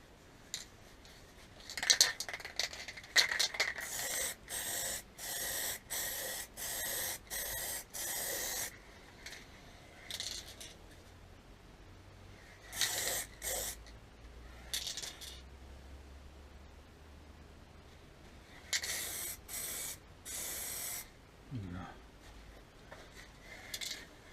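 A spray gun lays clear coat on a Suzuki Bandit 1200 motorcycle fairing and belly pan, heard as repeated hissing bursts of several seconds each with quiet gaps between, close and without talk.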